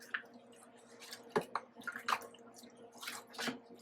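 Water rinses and drips over a puppy during a bath, with close, irregular splashes, drips and squishy wet sounds scattered throughout, moderately quiet and with no talking.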